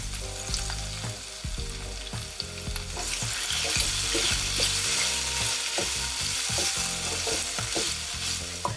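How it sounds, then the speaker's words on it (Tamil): Tomato, onion and coriander sauté over a low flame, giving a constant soft sizzle with frequent close scrapes and taps of a spoon stirring the pan, no talking throughout. "நான் லோ ஃப்ளேமில் வச்சு தான் ஃபுல்லாகவே வதக்கியிருக்கேன்."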